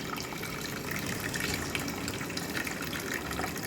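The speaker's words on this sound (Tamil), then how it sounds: "இதை தண்ணி ஊற்றி நம்ம வேக விட போகிறோம்" Water pours in a steady, continuous gush into a cooking pot of carrots and beans, close and fairly loud, with no talk.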